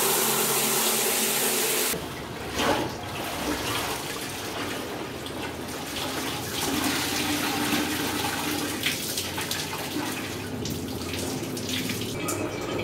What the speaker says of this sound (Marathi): ह्या बकेटमध्ये चांगलं पाणी घेऊया, 2 रायडिंग जॅकेट, 2 रायडिंग पॅन्ट ह्याच्यामध्ये डीप करूया क्लीन पाण्यामध्ये